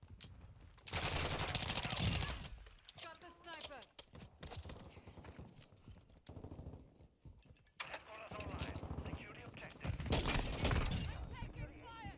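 Desert Eagle pistol fire in a shooter video game, with dense bursts of gunfire in loud clusters separated by quieter stretches where a voice talks over the action.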